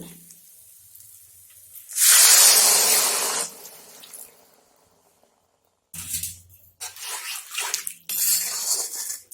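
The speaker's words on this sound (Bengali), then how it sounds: "এখন আমি দিয়ে দেবো জল।" Water poured from a tap into a pan of spiced fried potatoes and spring onions for a rohu fish curry: a loud, steady rushing stream for about two seconds, then several shorter splashing gushes, close up and with no voices.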